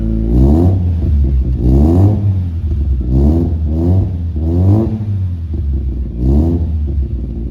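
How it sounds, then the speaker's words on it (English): A Mazda FC RX-7 rotary engine with a custom single-exit exhaust revs in a series of short, light blips, each rising and falling in pitch over a steady low idle, close and loud. "Give us some light revs."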